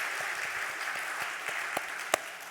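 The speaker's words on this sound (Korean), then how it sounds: "여러분들 우리 뜨거운 환영과 격려의 박수 한번 하도록 하겠습니다" A church congregation claps in welcome, a steady dense applause from many hands filling the room, with a few sharper single claps standing out.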